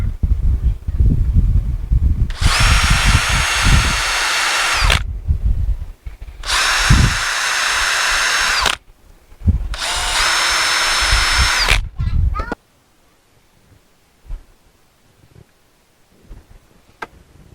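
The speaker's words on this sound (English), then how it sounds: "drill our pilot holes." A power drill runs in three sustained bursts of a few seconds each, whining loudly as it bores pilot holes into wood for a planter box, with handling noise between and quiet after.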